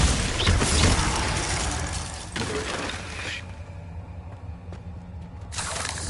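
A Glacius ice spell cast in Hogwarts Legacy on PS5 gives a loud icy crackle and shattering burst at the start, then fainter cracking, ticking and a hissing wash as the effect fades, with no talk.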